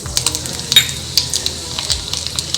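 Mustard seeds crackle and sizzle in hot oil in a kadai up close, with sharp scattered pops and spatters, and a light metallic scrape of a utensil in the pan.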